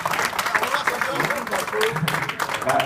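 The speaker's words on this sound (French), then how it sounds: "Marc, tonnerre d'applaudissements pour Marc et sa générosité." Audience applause at a magic show during a company end-of-year meal, a brief burst of clapping from a seated crowd with voices and murmuring mixed through it.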